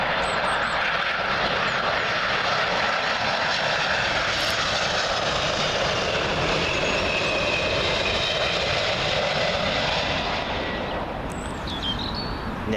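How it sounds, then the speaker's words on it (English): A Delta Airlines Airbus A330 jet arrives at Heathrow from Minneapolis. A close, heavy, continuous engine roar fills the whole span and eases only slightly near the end. "Delta Airlines Airbus A330 in from Minneapolis"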